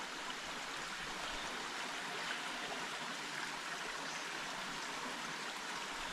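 A small stream flows beside a hiking trail, producing a faint, continuous babbling and trickling wash that stays steady and distant throughout without any voices.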